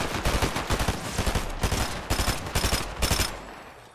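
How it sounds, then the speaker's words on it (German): Rapid gunfire in Fortnite, a sharp volley of repeated shots with a quick uneven rhythm, close and loud, trailing off at the end. "Es hat einer geschossen"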